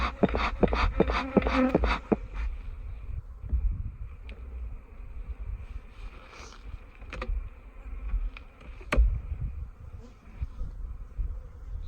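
Honey bees droning inside a ten-frame hive box during an inspection, a steady close hum with scattered clicks and knocks of frames being handled, louder at the start and fading to a softer buzz.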